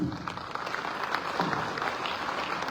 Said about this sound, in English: Once again, ladies and gentlemen, a round of applause